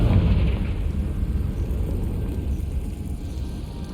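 A Confringo spell explodes in Hogwarts Legacy as a deep, booming rumble that peaks at the start and then slowly fades into a low, dull roar.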